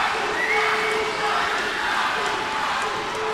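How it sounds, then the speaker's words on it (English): Crowd at a Barebones MMA Championship event in the Western Cape cheers steadily for a fighter, a dense, sustained roar of voices with a few shouts rising above it, no single voice standing out. "BMC crowd being heard for Aku"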